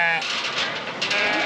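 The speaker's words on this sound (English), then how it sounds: "There are never-ending goats right now." Loud, wavering bleats from goats close by, overlapping one another in a continuous chorus.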